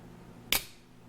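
A single sharp metallic snap as the blade of an Edgeco push-button bolster stiletto knife in Italian stainless steel fires open, one crisp click alone in a quiet room.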